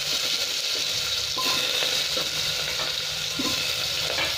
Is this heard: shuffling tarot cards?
no